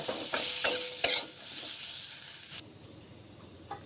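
Green chilies and turmeric frying in hot oil give a bright, loud sizzle with a few sharp stirring knocks, then the hiss drops suddenly to a faint simmer after about two and a half seconds.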